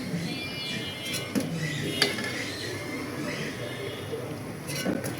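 Fried potato chops in gram-flour batter being lifted out of a frying pan with a utensil: soft clinks and scrapes against metal over a steady low hiss, with a few sharper taps standing out, fairly close and moderately quiet.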